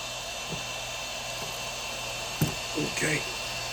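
A heat gun blows a steady, loud rush of hot air while a Monaco Motorsports carbon fiber spoiler is fitted to a BMW M340i. The hiss runs unbroken throughout, with brief voices and a bump near the end.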